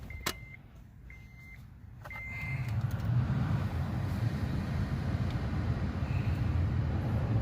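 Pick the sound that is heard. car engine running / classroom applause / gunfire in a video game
car engine running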